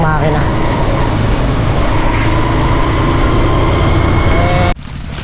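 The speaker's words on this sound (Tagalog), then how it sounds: "Tara, para masindihan na yung isang makina." A Wilkins 700 diesel engine on a farm runs loud and close, a steady rough rumble that goes on without a break before cutting sharply near the end.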